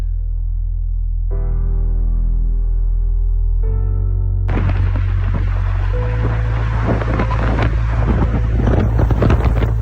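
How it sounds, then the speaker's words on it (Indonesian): Tornado wind raging with a heavy, constant low roar, buffeting loudly against the microphone and growing rougher and more turbulent partway through, with no voices. "Monster angin tornado mengamuk tanpa belas kasihan, melahap yang ada di sekitarnya"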